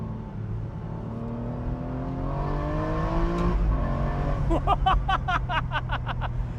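An Aston Martin Vantage V12 engine climbs in pitch through rising revs, with a brief dip as it shifts gears, loud and close.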